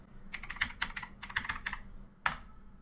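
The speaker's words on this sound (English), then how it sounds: "type the word discovery" Someone types a single word on a computer keyboard in Windows 11: a quick run of close, crisp key clicks in short bursts, a brief pause, then one final firmer keystroke, with no talking.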